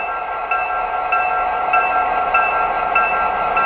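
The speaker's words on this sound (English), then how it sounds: "I did end up lowering the volume of the prime mover." A GP40-2 locomotive prime mover, an Athearn Genesis model with a Soundtraxx Tsunami 2 sound decoder, hums in a steady diesel drone with faint rhythmic pulses, running continuously and fairly loud with no talking.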